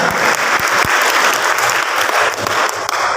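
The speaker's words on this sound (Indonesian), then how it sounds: "Kita beri tepuk tangan yang meriah bagi Allah kita." Loud, steady applause from a large church congregation clapping together, sustained throughout with no pauses.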